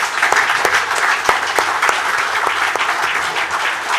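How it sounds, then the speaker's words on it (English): Audience applause for panelists at a clean energy business conference, a dense, even wash of clapping with a few sharp individual claps standing out, sustained throughout. "Can I please ask that we give a round of applause to our panelists?"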